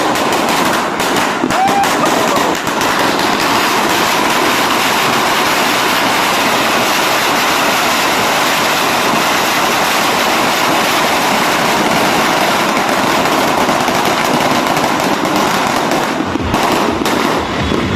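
Dense, continuous crackling and booming of New Year's Eve fireworks, including a 1,000-round firecracker string, going off in rapid succession in Quezon City, Philippines, loud and close, with a few faint voices cheering underneath.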